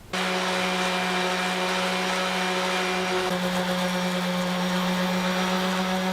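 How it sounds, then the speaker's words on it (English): Power sander working epoxy-filled cracks flat on an oak slab, a loud steady whirring drone that runs continuously with a slight shift in pitch partway through, no voices. "Now that I've got the epoxy sanded flat"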